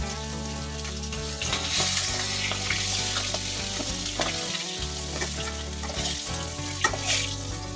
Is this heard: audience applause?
no